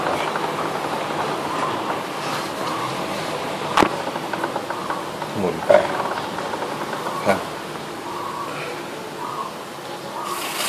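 A Honda CBR650F motorcycle chain spins steadily during cleaning, giving a continuous mechanical whir with faint rhythmic clatter and a few sharp knocks.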